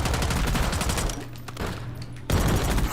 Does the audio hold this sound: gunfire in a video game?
yes